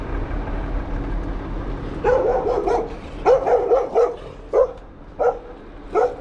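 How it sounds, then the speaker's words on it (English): Several dogs bark in short bursts in Liznjan, Croatia, some single yips and some quick doubled barks, moderately close over a low background hum. "A lot of dogs around here."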